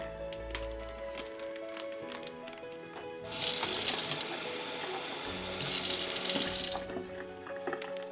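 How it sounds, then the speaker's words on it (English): Tap water runs into a container for mushroom soaking, a faint steady trickle broken by two louder gushing bursts in the middle, with no voices. "a little bit more water in here."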